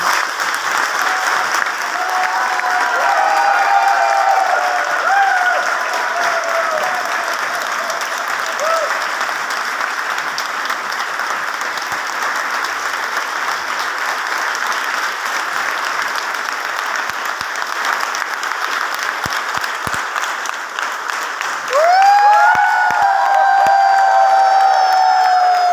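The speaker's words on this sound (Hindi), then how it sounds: "एक बार वीरू जी की तालियां।" A large crowd at a Modicare success event in Rajasthan applauds in tribute to Veeru ji, sustained loud clapping with scattered cheers and whoops, voices speaking over it at times, rising again near the end.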